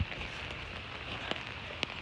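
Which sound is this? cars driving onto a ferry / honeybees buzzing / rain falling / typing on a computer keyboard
rain falling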